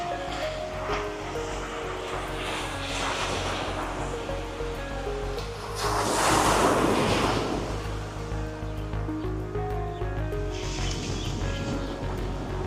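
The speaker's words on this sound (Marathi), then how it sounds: "इथूनच पुढे तुम्ही बघू शकता पूर्ण देवबागचं समुद्र आहे." Sea waves at the calm Devbag beach near Malvan wash in a continuous rushing roar, with one bigger wave swelling louder and breaking midway before easing back to a steady surf, with no voices.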